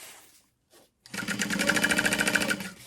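Sewing machine top stitching the folded edge of a waterproof canvas slip pocket on a handbag, a short burst of rapid, even needle strokes after a brief quiet start, close and clear.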